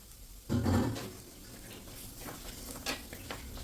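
Prawns being stirred and sautéed in a pan at home, a sudden clatter of the spatula and sizzle at the start, then a steady low frying hiss with occasional scrapes.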